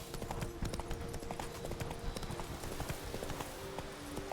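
Horse hooves clip-clop steadily on the ground in The Witcher 3: Blood and Wine, a fast, continuous rhythm of close hoofbeats over a busy game soundscape.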